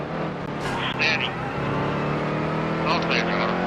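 Race car engine in NASCAR Heat 3 at Watkins Glen, a steady droning roar held throughout with brief higher-pitched whines and shifts near the start and end, loud and close, with speech-like sounds over it.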